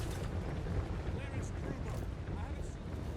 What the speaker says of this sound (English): And artillery's gonna start firing